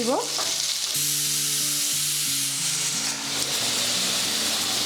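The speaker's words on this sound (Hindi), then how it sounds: "आलू और अमृतभंडा को भल भाव में भाजवा" Potatoes and raw papaya sizzle steadily in a hot pan, frying to light brown, a constant loud frying hiss with occasional low tonal hum beneath.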